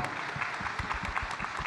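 A crowd applauds steadily, many hands clapping together in a dense, even patter with no pause.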